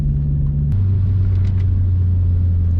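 A Vauxhall Corsa engine drones steadily up close from inside the car, then its pitch drops abruptly as the driver changes down a gear, settling into a lower, rumbling hum with no talk.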